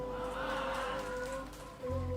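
Steady rain falls throughout, a dense continuous patter with a low hum underneath and no voices.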